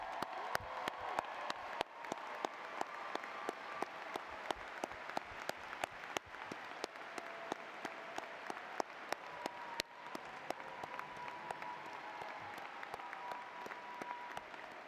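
Audience applause at the UNI spring commencement ceremony for new graduates, a dense, steady ovation from a large crowd with sharp individual claps standing out, sustained throughout at an even level.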